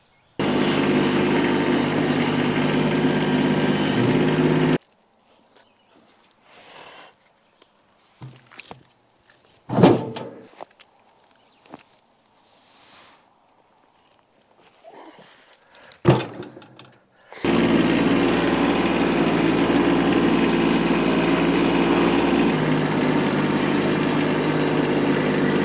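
A Kubota B2601 compact tractor engine idles steadily and close by, then cuts to quieter ambience with scattered knocks for several seconds before the same steady engine hum returns.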